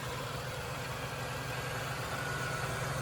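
A Buick Reatta car engine idles with a steady, even rumble that holds without change throughout, close and alone with no voices.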